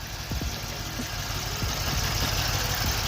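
A Mercedes C63 engine idles with cylinders 1 and 2 unplugged, giving a steady, moderately loud low rumble with a few soft knocks and clicks, heard alone without talk.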